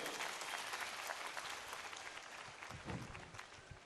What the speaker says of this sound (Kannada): ನಿಮ್ಮೆಲ್ಲರದ್ದು ಒಂದು ಜೋರ ಚಪ್ಪಾಳೆ ಇರಲಿ ಆ ಮಗುಗೆ.